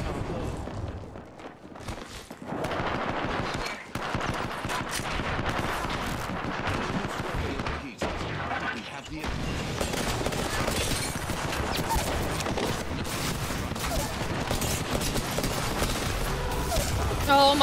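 Sustained battle gunfire in the video game PUBG, dense bursts of shots and heavy booms continuing for many seconds, loud and chaotic with players talking over it.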